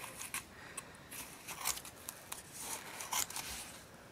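Scissors snip through yarn wrapped around cardboard to make a pom-pom, a series of quiet, irregular crisp cuts close by with short pauses between them.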